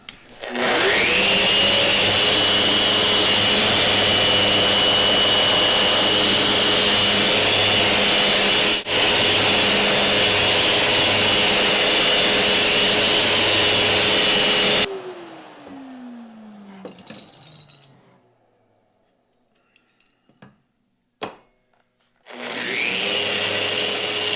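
An antique fern stand is power sanded with fine grit paper: a loud, steady electric sander whine runs for about fifteen seconds, winds down, a few knocks follow, then the sander starts again.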